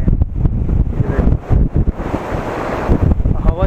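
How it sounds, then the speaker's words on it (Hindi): Strong wind blows across a bridge at Karanprayag, a loud continuous roaring buffet on the microphone with gusty surges throughout. "हवा चल रही है यहाँ पे एकदम खतरनाक।"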